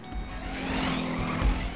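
Motorcycle skidding in GTA V Online, a sustained tire squeal over a rising engine roar, loud and continuous for under two seconds.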